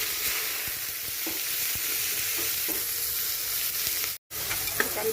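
Onions sizzling as they hit hot mustard oil with cumin seeds, a steady frying hiss close by with occasional stirring clinks and a brief silent gap near the end.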